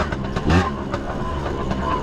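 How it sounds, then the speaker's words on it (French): Small Chinese-made 80cc two-stroke pit bike engine with a three-speed semi-automatic gearbox, revving steadily close up, with a dense buzzing drone and a brief louder rise near the middle. "c'est un petit moteur 2 temps, 80 cm3, 3 vitesses semi-automatiques, comme le Piwi 80."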